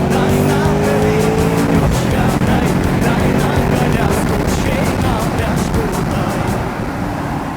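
A Mercedes C63 AMG V8 cabriolet accelerates loudly and up close. The engine pitch climbs, drops at a gear change and then rises again. Road and wind roar run under it, and the engine eases off near the end.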